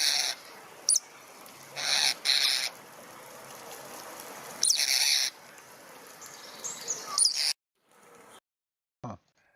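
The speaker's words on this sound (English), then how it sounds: "going to sleep with the sound of birds and waking up with them" Birds call outdoors in a quiet natural setting, with sparse, brief calls scattered among intermittent bursts of soft rustling noise.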